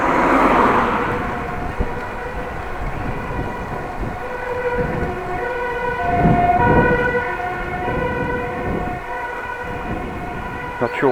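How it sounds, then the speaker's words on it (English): A fire truck siren wails somewhere behind a cyclist in Groningen's Korrewegwijk neighbourhood, its steady two-tone howl carrying from a moderate distance over outdoor street noise for the whole stretch. "Sirens, fire truck probably."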